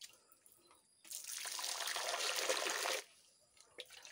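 Water gushing from a hand pump for about two seconds, a close, bright splashing rush that starts and stops abruptly amid quiet surroundings.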